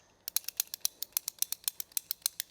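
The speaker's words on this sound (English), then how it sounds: "we just need to cut the pipe" Rapid, evenly spaced clicking snips ring out as a ratcheting cutter bites through a hot tub solar heater pipe, about a dozen sharp, faint clicks close by with no voices.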